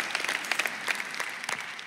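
A church congregation breaks into clapping during a sermon, a brief, lively burst of many hands with close, crisp individual claps over a dense crowd patter.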